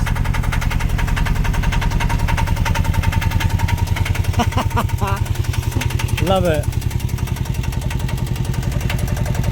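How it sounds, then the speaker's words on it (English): The inboard engine of a Newbridge Voyager 23 sailboat runs with a loud, steady, rapid chugging throb, close by, while a voice speaks briefly over it. "So that's the engine."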